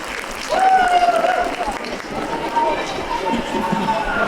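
Audience applause at the 2024 APIC Democracy Summit, a steady wash of many hands clapping that swells after the first half-second and carries on throughout, mixed with crowd voices and a faint tonal whistle or cheer.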